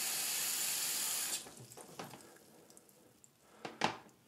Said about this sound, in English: Then I'm going to run some water